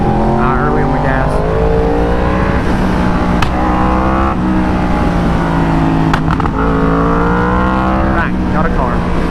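A Yamaha R1M sport motorcycle on a race track accelerates hard, its engine note climbing steadily through the gears, loud and close throughout with wind roar and no talking.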